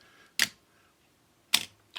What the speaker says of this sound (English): the shutter will stay open as long as you keep the shutter release button depressed